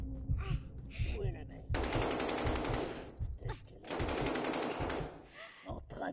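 Automatic gunfire in Call of Duty Modern Warfare, two long rapid bursts of machine-gun fire separated by brief pauses, with short shots and game sounds between, moderately loud and close.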